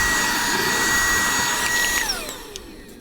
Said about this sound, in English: I grab the vacuum, add the brush nozzle.